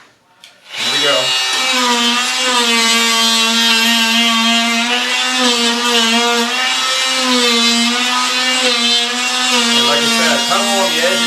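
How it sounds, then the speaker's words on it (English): A Dremel tool fitted with a rigid scraper blade scrapes up Armstrong linoleum flooring. It starts with a short knock, then a loud, steady, buzzing motor whine runs nonstop, close to the listener. "Take the Dremel tool with the rigid scraper blade."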